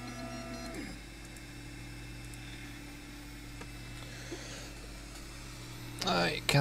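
A 3D printer runs steadily, a continuous mechanical hum with steady tones, joined near the end by a louder burst of motor movement; a voice speaks quietly over it.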